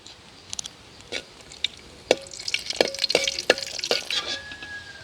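Cashew nuts fry in hot ghee for wheat laddu, with a steady sizzling hiss under a series of sharp spoon clicks and scrapes against the pan that grow busier toward the end.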